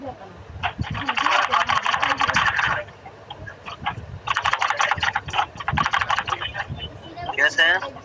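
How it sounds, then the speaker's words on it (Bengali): A sewing machine stitches piping around a curve on a boy's garment, running in rapid mechanical bursts that start and stop several times, with a voice talking over and between the runs. "রাউন্ড করে এটা সুন্দর করে সেলাই করে আটকে দিতে হবে।"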